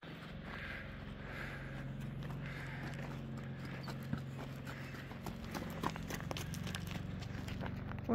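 A donkey's hooves clip-clop in a steady, close rhythm on the stone steps of Petra, Jordan, with light outdoor background noise and no talk.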